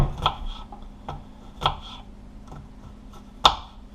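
A knife cuts food for a stuffed venison loin, giving a few sharp, quiet taps on a board at irregular intervals.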